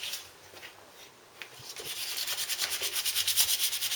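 Abrasive scuffing rubs the satin finish off a motorcycle part, starting soft and irregular, then growing into louder, quick rhythmic back-and-forth strokes up close.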